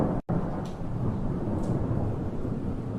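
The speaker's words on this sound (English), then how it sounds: "They bring thunder, rain, and darkness wherever they go" Deep, loud rolling thunder rumbles over a steady wash of heavy rain, continuous and close, with a brief break near the start before the storm noise resumes.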